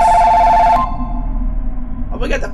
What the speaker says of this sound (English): Oh, we got the flippy phone?